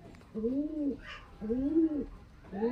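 A female high-flyer Giribaz pigeon gives soft, low, rounded coos in a repeating rhythm of three close calls, with faint background noise.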